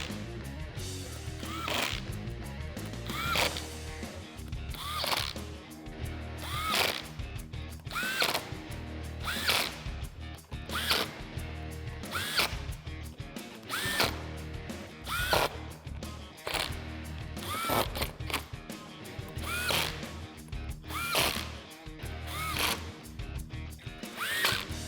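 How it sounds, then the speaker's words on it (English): A power tool fitted with a 7mm socket drives screws into the belly pan of a 2018-2021 Ford Mustang in repeated short whirring bursts, each ending with a ratcheting click, close and loud throughout. "now once again I'll just take my 7mm socket and tighten them all up."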